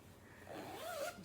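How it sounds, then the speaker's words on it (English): Zipper being pulled along the top of a soft, squishy patchwork fabric bag with white lining and quilt batting, one smooth rising zip run close and fairly quiet. "patchwork bag with a zipper on the top, just a white lining"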